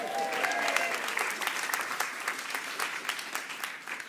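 An awards-night crowd at the Northern Writers' Awards applauds in a thick, continuous patter of handclaps that gradually thins and softens toward the end.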